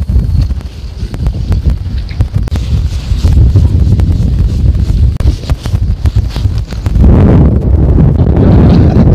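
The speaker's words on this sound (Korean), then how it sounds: "바람이 너무 분다" Strong wind buffets the microphone at a seaside fishing spot on a walk-out octopus fishing trip at a small harbor, roaring loud and continuous with gusts swelling harder near the end.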